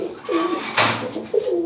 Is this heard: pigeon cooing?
yes